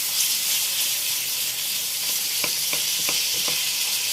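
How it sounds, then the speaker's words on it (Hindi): Minced chicken keema sizzles steadily in a hot pan, with a constant bright hiss and several sharp scrapes and clicks of a spoon stirring the meat partway through. "ये देखिए, हमारा कीमा बिल्कुल फ्राई होना स्टार्ट हो गया है।"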